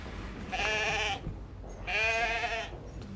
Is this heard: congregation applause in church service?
no